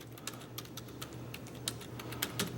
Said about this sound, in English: how's that for typing?